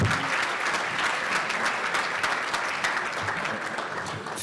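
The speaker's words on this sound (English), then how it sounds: "Ladies and gentlemen, a big round of applause for our state representative" Steady, full audience applause rings through a room at a St. Patrick's Day luncheon for a state representative, loud and continuous with no voices over it.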